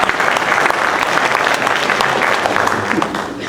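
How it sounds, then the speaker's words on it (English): Audience at a signing day event applauding the coaches, dense sustained clapping from a crowd for several seconds before tapering slightly at the end. "So a round of applause for our coaches."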